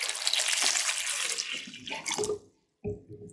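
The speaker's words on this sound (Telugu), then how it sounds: "క్లీన్గా అయిపోయేదాకా ఒక 4-5 సార్లు వాష్ చేసుకోవాలి." Baby potatoes are washed in water, close splashing and sloshing for a couple of seconds, a brief pause, then another short splash as the water moves again.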